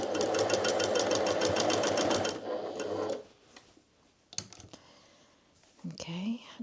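A sewing machine stitching forwards and backwards on patchwork fabric, a fast, even run of needle strikes for about two seconds, then stopping into quiet handling noises and a short voice.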